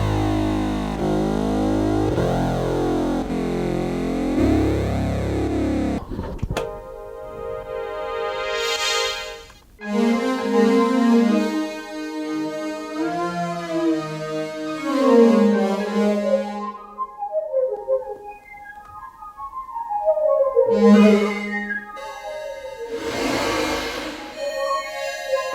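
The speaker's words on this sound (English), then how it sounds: "Here you have the bass from the Juno." Juno synthesizer playing a heavy, distorted bass line, loud and continuous with sustained low notes and shifting tones, no voices.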